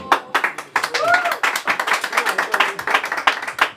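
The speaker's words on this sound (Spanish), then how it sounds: "Un aplauso bien fuerte para él." Guests at a birthday party with a mariachi band clap for the birthday boy, a close burst of uneven individual handclaps that fades slightly, with a voice briefly heard among them.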